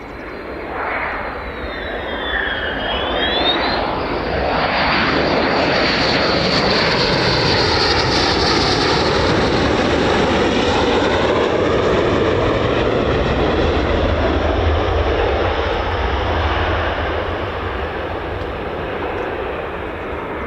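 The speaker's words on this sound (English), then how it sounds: "Just wondering if the F-35s are hot pitting. Can hear them from the other side," F-35 fighter jets running at an air base, RAF Lakenheath, a loud sustained roar that builds and holds steady across the whole stretch, with a high whine at the start and a broad, rumbling jet-engine wash, no talking.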